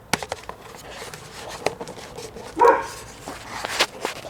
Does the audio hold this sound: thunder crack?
no